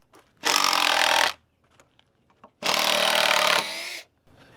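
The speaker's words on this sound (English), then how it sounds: "the reason I'm unscrewing one on part of the way and the other taking it out first" Two close bursts from a power drill backing screws out of a board, each a loud whirring run of about a second, separated by a short pause with faint clicks and handling noise.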